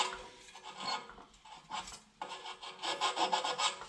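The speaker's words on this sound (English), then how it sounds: "you want to sand that flat spot." Close, quiet rasping of sandpaper on the flat spot of a seized exhaust blower motor shaft, several short back-and-forth strokes that quicken toward the end.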